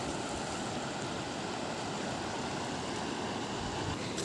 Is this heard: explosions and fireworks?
no